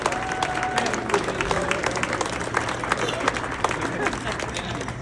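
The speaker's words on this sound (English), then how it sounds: "And one last round of applause." A crowd claps at a pickleball facility ribbon-cutting, dense applause mixed with murmuring voices and background babble throughout.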